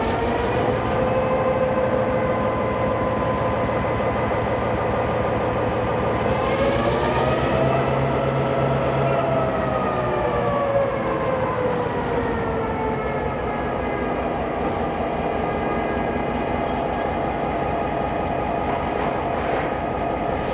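Steam locomotive 3801 shunting its train at a station platform in New South Wales, a sustained whistle-like tonal drone with a pitch bend midway over continuous rumbling, loud and close.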